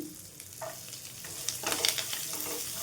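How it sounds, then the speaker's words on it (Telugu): Sliced onions frying in a pan for puffed rice upma, giving a low steady sizzle with a few soft stirring scrapes, close by and fairly quiet with no talking. "చూడండి, ఆనియన్స్ కొద్దిగా మనకి ఫ్రై అయ్యాయండి"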